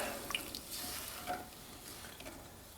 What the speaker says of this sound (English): so we're going to head and go give this a stir